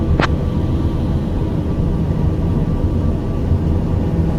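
A TBM 850 turboprop engine in a flight simulator drones steadily and loudly throughout, with a brief higher-pitched blip near the start.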